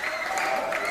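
A wrestling crowd roars and cheers loudly and steadily after a double missile drop kick and nip-up in a tag team match, a dense wall of noise with no gaps.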